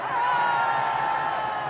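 A large rally crowd of teenagers roars in a sustained, loud cheer with whoops and yells blending into one wash of voices, a single shrill whistle-like tone riding over it near the start.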